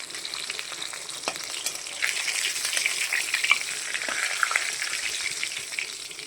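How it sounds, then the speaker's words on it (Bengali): Fish pieces fry gently in hot oil in a home kitchen, a continuous bright sizzle with crackling pops and small spits, steady and close throughout. "মাছটাকে খুব করে ভাজবো না, একটু নরম নরম করে ভেজে রাখবো।"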